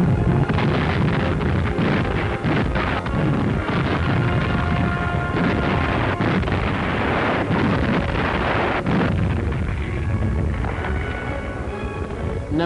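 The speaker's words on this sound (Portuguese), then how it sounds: "É incendiado a tiro de artilharia." Heavy booming artillery fire from a ship thuds repeatedly over a constant roar of wind and engine noise, loud and sustained throughout, as an armed cargo ship is set on fire in early World War II.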